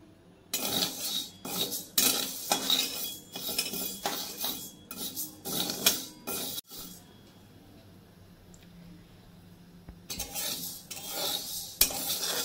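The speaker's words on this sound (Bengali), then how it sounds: "বিনা তেলেই ভাজতে হবে, এমনি শুকনো কড়াইয়ের মধ্যে আমি একটু নাড়াচাড়া করে নেব, একটু ভেজে নেব" Small sago pearls dry-roasting without oil in a dry wok, stirred with a metal spatula: rapid rhythmic scraping and rattling strokes, a quieter pause, then stirring resumes, close and fairly loud.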